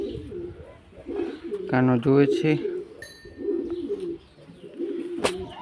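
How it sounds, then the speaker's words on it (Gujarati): Pigeons cooing at a temple, a rhythmic throaty coo repeating several times at close range, with someone talking over and between the calls. "જો આ કબૂતર"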